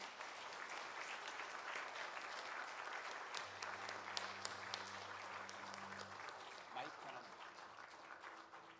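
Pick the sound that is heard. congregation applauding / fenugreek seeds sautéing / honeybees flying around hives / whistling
congregation applauding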